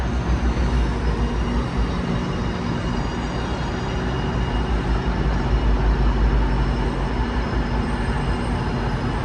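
A passenger train pulling out of Union Station in Toronto, a steady loud rumble of rolling stock and engine noise filling the whole clip without pauses, no voices.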